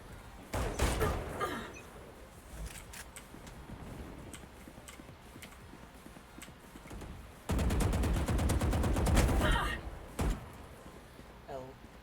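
Video game gunfire from Valorant or Fortnite: sharp shot bursts, a dense loud volley of rapid fire over several seconds midway, with game sounds and a voice talking between shots.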